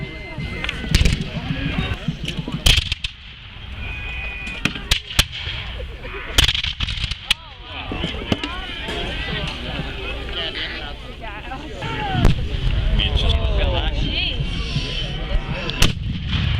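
A 6-pounder cannon fires at a War of 1812 battle reenactment at Queenston Heights, with several loud, sharp booms spaced across the scene over constant outdoor crowd noise, murmuring voices and distant musketry.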